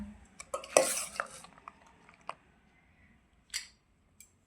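A spoon scrapes and clinks against a plate while chips bhel is served, giving a cluster of crisp rustling and metallic taps early on, then a few isolated clicks separated by near silence.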